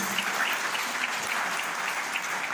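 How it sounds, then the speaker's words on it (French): A crowd at a Pan-African gathering in Guadeloupe keeps up a steady round of clapping, moderately loud and even, with individual claps faintly standing out and no speech. "Il faut les applaudir"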